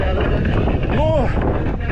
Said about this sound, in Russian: Да, ветер, капец.